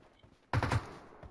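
A short burst of about three rapid gunshots erupts midway through a firefight in the video game PUBG, loud and close, after a quiet lead-in with no talking.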